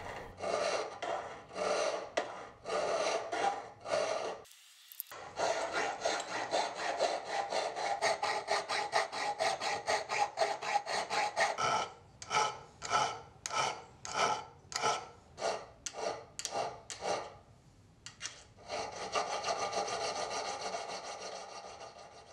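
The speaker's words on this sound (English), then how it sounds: "For some of the areas that I'm unable to profile on my belt sander, I'll just come back with some files and clean them up." Steel knife blanks are cleaned up with a hand file, making a steady series of close, rasping strokes with brief pauses. The rhythm speeds into short, quick strokes midway, then settles into a continuous grinding rasp.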